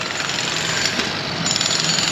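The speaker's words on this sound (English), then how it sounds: "the man over there started with the jackhammer" A jackhammer pounds steadily nearby at Playa de Palma, Mallorca, a loud, continuous rattling hammer that fills the whole short stretch with no talk over it.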